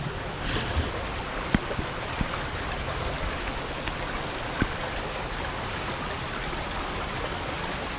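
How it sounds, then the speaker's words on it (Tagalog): Strong river current at the Tacloban river in Barangay Malibayo, Batangas City, water coming down from the mountains, a steady close rushing flow with a few sharp splashes. "Ang lakas ng agos ng tubig"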